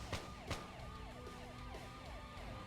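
Police-style sirens wail from a city map in the real-time strategy game Red Alert 2, warbling steadily at moderate loudness behind a busy game soundscape, with two sharp clicks near the start.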